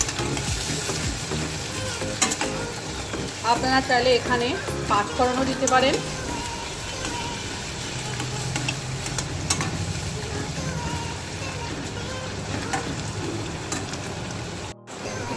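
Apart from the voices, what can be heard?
onion frying in oil while stirred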